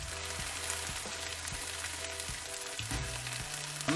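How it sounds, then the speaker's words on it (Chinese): Bok choy greens and scrambled eggs sizzle and crackle in hot oil in a wok, with soft rhythmic scraping and stirring knocks over a constant frying hiss, close and quiet, no speech. "将鸡蛋炒熟以后，将准备好的油菜倒进去。"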